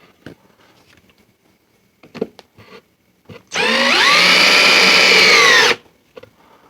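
A power drill drives a screw into wood for a shelf on a French cleat system, running steadily for about two seconds with a loud, even whine, preceded by a few soft handling knocks.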